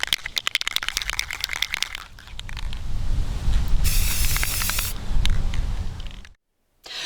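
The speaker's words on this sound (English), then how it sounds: "Rust-Oleum 2-in-1 clear gloss spray, but you can use any clear acrylic spray that you have" Short bursts of Rust-Oleum 2-in-1 clear gloss spray hiss from an aerosol can, a steady close hiss lasting about a second amid clicking, crinkling handling noises, then a brief silence.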